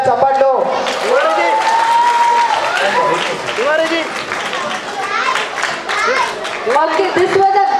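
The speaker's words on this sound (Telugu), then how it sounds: "అందరు ఒకసారి చప్పట్లు." An audience applauds after a child's recitation at a school cultural performance day, the clapping dense and steady throughout, with children's voices and chatter mixed in.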